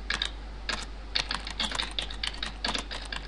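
Keys on a computer keyboard are typed in quick, irregular bursts of sharp clicks, fairly quiet and close, with no one speaking.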